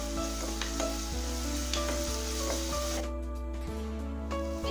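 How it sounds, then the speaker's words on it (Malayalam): Crushed ginger and garlic sautéing in a pan for a curry, a steady soft sizzle with light stirring and scraping running throughout, fairly quiet and with no voices. "ഇതിന്റെ പച്ചമണം മാറുന്നത് വരെ നമുക്ക് ഇതിനെ ഒന്ന് വഴറ്റിയെടുക്കാം."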